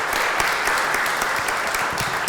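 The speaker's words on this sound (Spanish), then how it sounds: "le pido un aplauso para él" Audience applause for Horacio Ravena at a FEDEFAM meeting on enforced disappearance, dense continuous clapping from a room of people, steady and fairly close for the entire moment.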